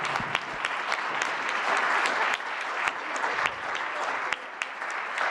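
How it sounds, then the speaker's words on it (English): Crowd at a water infrastructure investment event applauding, dense continuous clapping with sharp individual claps standing out near the front, sustained throughout. "So we owe you a big round of applause."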